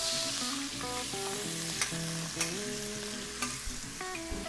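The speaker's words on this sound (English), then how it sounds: "mix the sauce we prepared earlier, stir, and add it inside" Sauce for General Tso's chicken sizzles in a pan under steady stirring, with a few sharp utensil clinks. Tonal background music plays throughout, and there is no talk.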